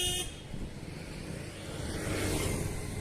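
Busy main-road traffic rushes past a cyclist, with a car horn tooting near the start and a steady engine rumble building underneath.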